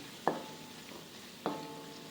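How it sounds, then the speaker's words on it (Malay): Banana fritters (cekodok pisang) frying in hot oil while being stirred and rolled, two sharp spatter bursts standing out above a steady low sizzle, no voices. "tips untuk cukodok ni bulat cantik, kita kena sentiasa gaul golik-golikkan macam ni"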